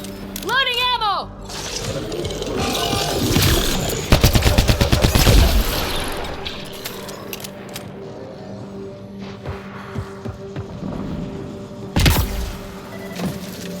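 Bursts of rapid automatic gunfire and shots in the sci-fi shooter game Mass Effect: Andromeda, loud and dense in the middle with a later single sharp shot, mixed with game effects and a voice speaking.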